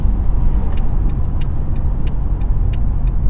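A Mercedes-Benz CLS550 sedan's engine roars steadily up close while accelerating, with broadband road and drive noise, punctuated by brief high ticking clicks; no voices.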